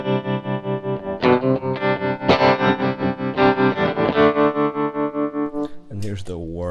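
Overdriven electric guitar chords run through an Electro-Harmonix Wiggler all-tube tremolo pedal in AC mode, giving a smooth, steady rhythmic volume pulse under repeated strums, close and loud, ending with a brief slide and a spoken voice.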